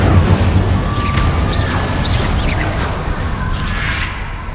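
Incendio fire spells cast repeatedly in Hogwarts Legacy, heard as steady whooshing bursts and booms over a dense, loud game soundscape with scattered sharp chirps, no pauses throughout.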